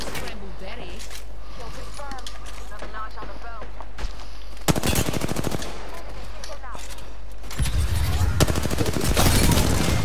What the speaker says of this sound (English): I shot them both. They're both shot, bro.